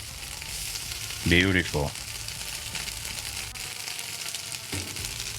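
Bologna fries on a Blackstone griddle with a steady, soft sizzle throughout, briefly joined by a scrape of a spatula as the slice is flipped, while someone speaks a single word.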